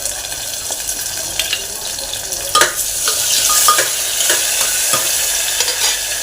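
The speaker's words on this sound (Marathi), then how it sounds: "याच्यामध्ये कढीपत्ता घालून घेते" Curry leaves dropped into hot oil for a dal, brinjal and potato curry crackle and sizzle steadily, with stirring clinks and a brief louder spatter midway, close and without talk.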